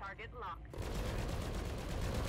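A mech in the BattleTech video game fires cannon and lasers, bursting into a dense, sustained roar of gunfire and explosions after a brief spoken line. The barrage is loud and continuous.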